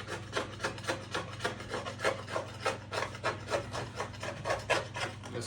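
Rhythmic scraping of overspray off the fibreglass body of a VW Manx buggy, steady back-and-forth rasping strokes about twice a second, close and moderately loud with no talking.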